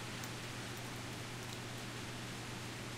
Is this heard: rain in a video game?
yes